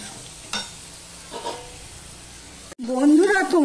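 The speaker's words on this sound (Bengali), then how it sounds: "এবার চিংড়ি মাছটা একটু ভেজে নেব।" Shrimp fry with onion in a pan, a soft steady sizzle broken by two brief stirring scrapes, before a voice starts talking over the cooking.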